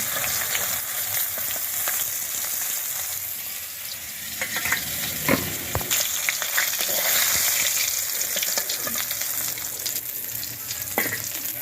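Hilsa fish frying in a pan at home, a steady close sizzle with occasional crackles and stirring scrapes running throughout, no talk.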